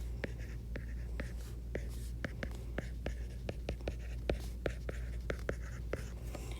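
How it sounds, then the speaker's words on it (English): A pen writes out a factoring formula by hand, giving a close run of quick, evenly spaced scratchy strokes and taps over a quiet room hum. "I'm going to write that up here just in case you need to see it."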